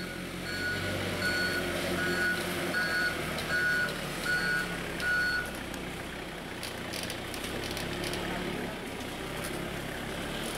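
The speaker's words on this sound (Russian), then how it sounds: "машина прошла таможенную проверку и будем грузить на эвакуаторе" A tow truck reverses to load a car after a customs inspection, sounding a series of evenly spaced electronic backup beeps over a low, steady engine rumble that continues alone after the beeping stops.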